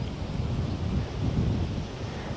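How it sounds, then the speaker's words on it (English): Strong wind buffets an outdoor microphone near a ferry crossing and bridge construction, a steady low rumbling roar with no speech over it. "it's really windy here and I don't want that noise from the breeze"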